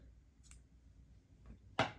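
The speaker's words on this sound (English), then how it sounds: "cut a small piece of red yarn, maybe about like 6 to 10 inches long" Scissors snip through a short length of red yarn, giving one sharp, close cut near the end after a couple of fainter clicks in a quiet room.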